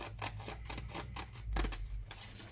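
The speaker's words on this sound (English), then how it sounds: "So I'm going to cut these big ones off the bottom here" Scissors cut paper pieces for a mosaic postcard, a series of close, crisp snips and rustles of paper repeating at an even pace, with no talk.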